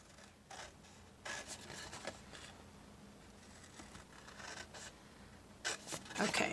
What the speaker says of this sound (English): now I'm just going to cut up all three